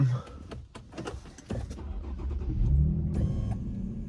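A B16 Spec V car's engine runs at a steady idle, close and continuous, with a few small clicks and bumps and a slight swell in loudness toward the end.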